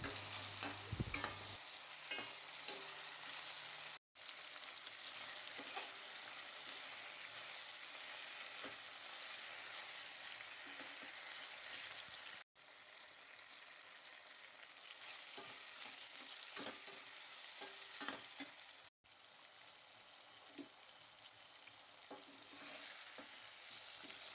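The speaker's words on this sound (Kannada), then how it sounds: "ಇನ್ನು ಕೊನೆಯದಾಗಿ ಗೋಡಂಬಿ ಮತ್ತು ಕೊತ್ತಂಬರಿ ಸೊಪ್ಪು ಹಾಕಿ ಒಮ್ಮೆ ಚೆನ್ನಾಗಿ ಫ್ರೈ ಮಾಡಿಕೊಂಡ್ರೆ ಆಯಿತು." Tomato, green chili, cashews and coriander fry together for paneer gravy, a continuous bright sizzle with frequent scraping stirs and utensil taps, held close and steady for the full length.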